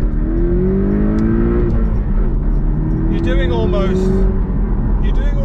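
Porsche 718 Cayman T pulls hard in first gear, its engine note rising steadily and staying loud and close throughout, with someone talking over it.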